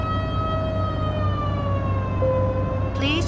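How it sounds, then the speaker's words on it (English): Police car siren in the arcade racing game Thrill Drive 2, a steady wailing tone held loud throughout over a constant low engine drone, with a brief electronic chirp near the end. "A police car is approaching."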